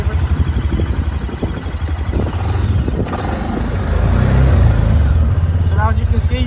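A 2022 Massimo T Boss 550 F Workhorse 4x4 UTV engine runs with a low, steady rumble that swells slightly partway through, under someone talking.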